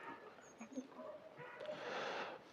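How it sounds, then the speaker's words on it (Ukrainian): A dog gives a few faint, short yips and whimpers some distance away, mixed in with quiet background noise and a voice. "та що ти гавкаєш?"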